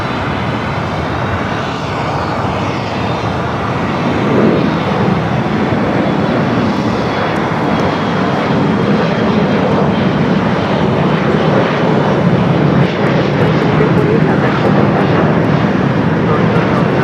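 A Spirit airliner arriving on the north side at Los Angeles International Airport, producing a loud, sustained jet roar that swells after a few seconds and stays strong to the end.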